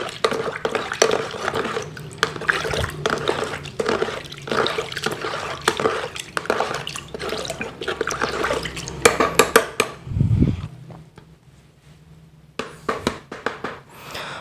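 A pesticide mixture for chili plants is stirred in a container, producing rhythmic sloshing and scraping knocks with liquid splashes, then a pause and a resumed faint stirring.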